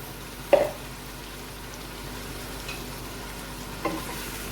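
Chicken sizzles as it fries in garlic and ginger paste in a pan for biryani: a continuous soft crackle and hiss, broken by a sharp clink of stirring early on and a quieter one later.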